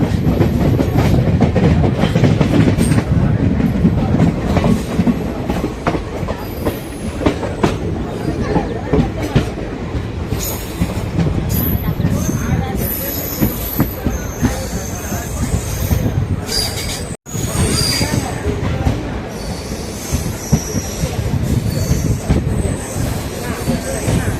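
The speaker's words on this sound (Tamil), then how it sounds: "கொடைக்கானல் ரோடு ரயில்வே ஸ்டேஷன்லேருந்து டிபேட் ஆகிட்டோம்." A Madurai–Coimbatore passenger express departs Kodaikanal Road railway station, rumbling steadily with rhythmic clacking wheels and occasional metallic squeals, loud and continuous, with some voices faintly mixed into the noise.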